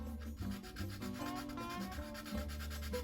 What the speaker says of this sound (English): Let me grab a small piece of sandpaper, because we want to scuff up the tubing